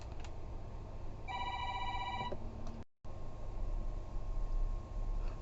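A phone ringing indoors, a brief repeated electronic ring tone lasting about a second and a half over a low steady background hiss, followed by a short gap in the sound, with no talking.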